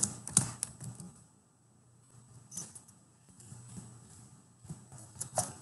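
Computer keyboard typing while entering an opening balance in QuickBooks Desktop: scattered close clicks, a cluster at the start and a few more bursts near the end, with a quiet stretch in between.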